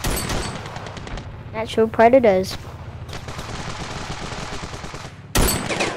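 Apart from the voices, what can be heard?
gunfire in a video game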